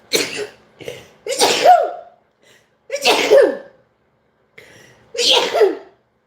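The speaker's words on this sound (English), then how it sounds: "I'm about to sneeze." A person sneezes repeatedly after sniffing perfume, several close, sharp sneezes and breathy gasps separated by brief silences.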